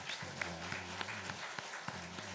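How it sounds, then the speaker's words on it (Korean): During a Sunday church service, the congregation claps in thanks, a faint, distant patter of scattered hand claps over a low steady hum. "하나님 앞에 감사의 박수 한번"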